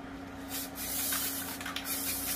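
A spray paint can hisses in a couple of short bursts and one longer spray, close and fairly soft, with no voices.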